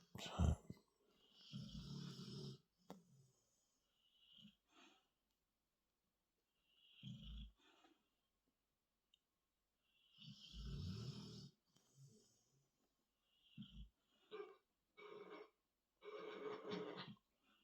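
Someone sleeping snores in slow, rough bursts with squeaky nasal noises between long quiet pauses, faint and close, with occasional soft speech.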